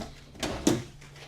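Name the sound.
drawer in RV kitchen opening or closing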